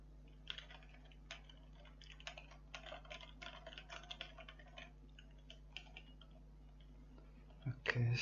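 Someone types on a computer keyboard while coding a Python Discord bot, giving quick bursts of close, crisp key clicks in an uneven rhythm over a quiet background hum, ending with a louder thump.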